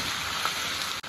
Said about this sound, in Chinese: 这个时候呢，把这个木耳也要下锅，